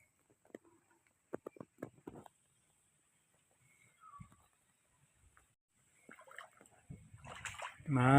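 Water splashes and drips in sparse, scattered bursts while a muddy pig pen and feeding trough are cleaned, with a voice starting up at the very end.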